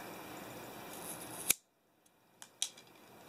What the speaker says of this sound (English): So I'm going to cut a very small hole in the top.